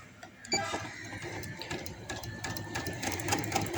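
A sewing machine stitches a seam on baby boy short pants, a quiet, soft rapid whirring that runs on unbroken after a brief start.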